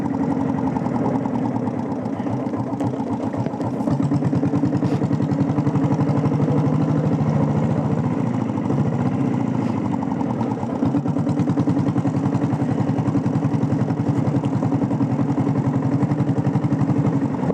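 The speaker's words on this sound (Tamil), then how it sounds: "வண்டி பீட் சூப்பராக இருக்குது ஃப்ரெண்ட்ஸ். வண்டி பீட் எல்லாமே தெளிவாக இருக்குது." A diesel Royal Enfield Bullet motorcycle idles close by, its single-cylinder thump beating in a steady, even rhythm throughout.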